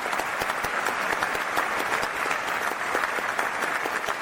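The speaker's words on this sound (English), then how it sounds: "let's give all of those connections a round of applause" Steady audience applause fills the whole clip, a dense, even clatter of many hands clapping at moderate loudness with no pauses and no voices on top.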